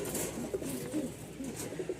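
Young Rajshahi pigeons softly cooing in a loft, several low murmuring coos scattered over a steady background hum, close but quiet.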